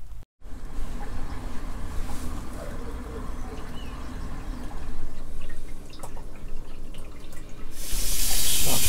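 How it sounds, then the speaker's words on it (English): Water runs and drips through motorhome taps in a steady, close hiss with scattered clinks, swelling louder toward the end. "Start to run the water through the taps to get some of the liquid in there."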